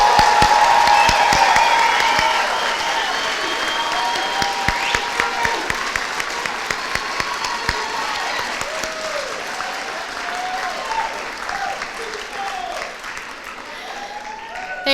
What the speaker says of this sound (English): let's give all the graduates a big round of applause